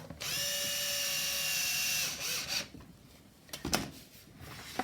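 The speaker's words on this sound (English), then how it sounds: "you can take your washer and screw and then just screw it back into place." A washer and screw being driven back into a stroller frame, a brief steady whirring turn followed by a few short rubbing and clicking sounds, close and quiet.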